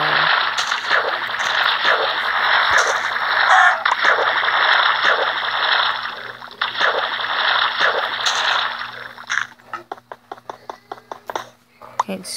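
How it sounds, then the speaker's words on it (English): Swimming in water in the Minecraft video game, a continuous splashing wash that runs loud for about nine seconds, then breaks into a quick series of short, choppy water strokes near the end. "Can't stand the swimming noise after a while."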